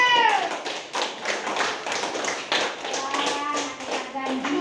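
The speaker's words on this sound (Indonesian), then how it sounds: "tepuk tangan dulu" A school class applauding its teacher, a brief burst of rapid clapping from many hands, loud and close, overlapping with the teacher's voice.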